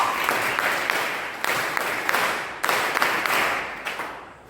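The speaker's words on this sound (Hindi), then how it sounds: "कृपया उनका ताली से स्वागत कीजिए" An audience applauds to welcome the judge onto the stage at a divisional painting and rangoli competition and freedom-fighter honour ceremony. The clapping is dense and steady, swelling in a few waves over several seconds.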